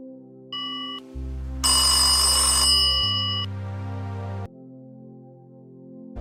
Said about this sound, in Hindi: वो जल्दी से घर जाकर जैन को फोन करता है